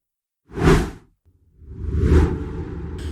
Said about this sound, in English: You get a little swoosh.